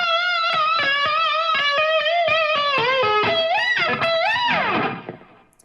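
An electric guitar with heavy distortion and effects plays a fast solo phrase, with quick picked notes climbing into wide pitch bends and a sliding dive that fades out at the end.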